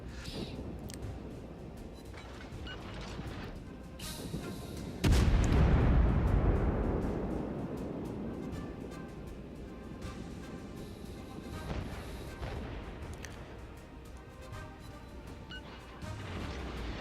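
Ship cannon volleys boom in a video game naval battle, one heavy broadside blast around the middle followed by a rumbling decay, with scattered lighter shots and crashes before and after, no talk.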